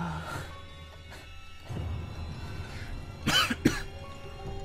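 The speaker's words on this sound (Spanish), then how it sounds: "Ay, me está pegando un poco de tos." A few short, rough coughs come in a quick cluster after near-silence, close to the mic, with some breathy throat noise around them.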